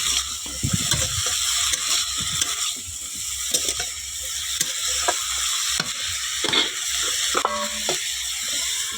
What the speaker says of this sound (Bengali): তারপরে এটা আমি নাড়াচাড়া করে ঢাকিয়ে দেবো।